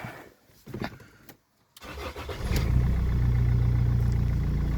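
An old diesel Rover 75 / MG ZT cranks with a few clicks, falls silent briefly, then fires up and settles into a loud, steady idle, close by with no talking.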